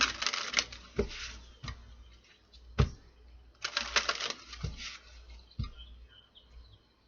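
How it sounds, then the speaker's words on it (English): Oracle cards are shuffled in quick riffling bursts separated by sharp taps and clicks, close and fairly quiet, with brief pauses between rounds. "3 shuffles this time."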